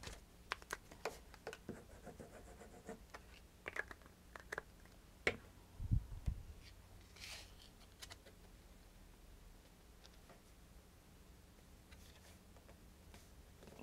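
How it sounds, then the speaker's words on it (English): Paper being cut with a paper cutter for a card project, heard as faint scraping and light clicking taps spread over a quiet background, with a couple of louder knocks partway through. "I'm just going to cut this out real quick with my paper cutter."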